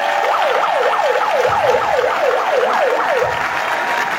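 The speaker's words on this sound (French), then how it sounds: "Je vous demande de l'applaudir." A rally crowd applauds at a campaign meeting for Albert Ondo Ossa in Tchibanga, a constant dense wash of clapping under a loud, wavering siren-like whistle repeating rapidly through most of the moment.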